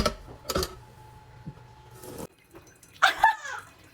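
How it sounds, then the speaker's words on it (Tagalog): A pot being washed under running water at a sink, with short bursts of splashing and a metallic clink near the start and a louder rush of water toward the end. "So syempre, huhugasan ko muna."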